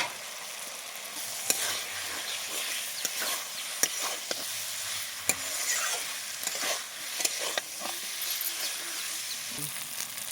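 Pre-fried potatoes sizzle in a spiced masala while a spatula stirs and scrapes the pan with repeated sharp clacks over a continuous frying hiss.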